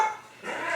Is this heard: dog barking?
yes